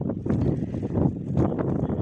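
Gusty wind buffets the microphone in an outdoor village vegetable garden with low, rumbling blasts that rise and fall, no voices.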